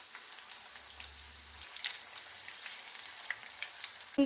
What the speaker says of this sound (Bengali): তেলটা হালকা গরম হয়ে গেছে। এবার ফ্রাই করতে দিয়ে দেব।